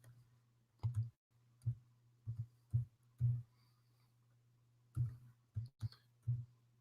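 Keyboard typing at a slow, uneven pace, with clusters of soft clicks separated by pauses, set over a steady low hum in a quiet room.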